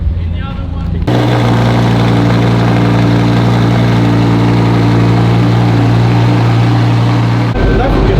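A Mitsubishi car engine idles close by, a loud, steady low rumble with a constant hum that starts abruptly after a second and cuts off near the end.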